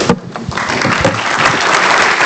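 An audience at a Tallahassee QB Club birthday celebration for Bobby Bowden claps in dense, sustained, loud applause throughout.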